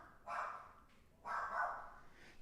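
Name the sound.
dog barking, speaker's mother's dog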